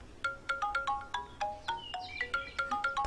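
A telephone's electronic ringtone plays a bright, repeating melodic trill in quick regular bursts, fairly loud and close with no voices.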